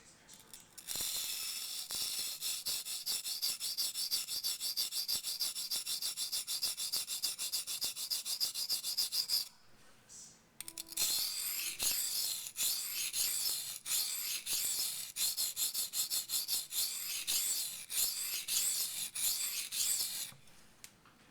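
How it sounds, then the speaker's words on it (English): A Les George VECP knife being sharpened on a waterstone makes a rhythmic, gritty rasp of steady back-and-forth strokes in two long runs separated by a short pause, quiet and close. "Got a little bit of a slurry forming on top of the stone."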